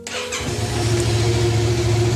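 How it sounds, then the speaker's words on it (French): A motorcycle engine cranks and fires up after the ignition is switched on and the fuel injection primes, then settles into a steady, loud idle with a low rumbling tone, close by. "nous allons allumer le contact, attendre l'initialisation de l'injection et maintenant démarrer le moteur"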